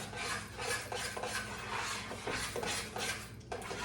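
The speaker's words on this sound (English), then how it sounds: "Then stir it up." Melting cheese for baked macaroni and cheese stirred in a pot, a close, rhythmic series of thick scraping strokes under a soft sizzle, steady throughout.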